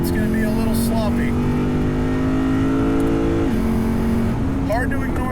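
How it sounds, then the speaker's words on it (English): The V8 of a Lexus RC F Track Edition revs hard on a racetrack, a loud, steady high-rpm drone with a brief drop and rise as it shifts, heard from inside the car while someone talks over it. "Hard to ignore the sound of the engine, though. It is a beautiful engine."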